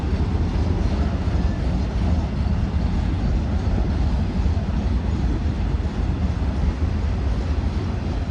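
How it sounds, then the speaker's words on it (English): A Union Pacific manifest freight train rumbles past nearby, a steady loud roar of wheels and cars on rails with heavy low rumble and no break throughout. "Nice train."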